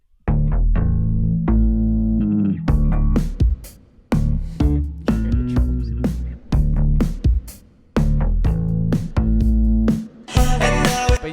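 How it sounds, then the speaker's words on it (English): Live electric bass layered over a synth bass for extra low end, playing a punchy riff in loud, close phrases separated by short gaps, with no talking. "this is me playing live bass. And then underneath it for this first part is a synth bass"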